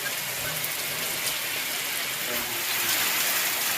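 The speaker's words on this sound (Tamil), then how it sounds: "சிவகங்கை மாவட்டத்தின் பல்வேறு பகுதிகளிலும் 2வது நாளாக மழை பெய்தது." Rain falls across the Sivaganga district of Tamil Nadu as a steady, full hiss of drops hitting surfaces nearby, with faint talk underneath.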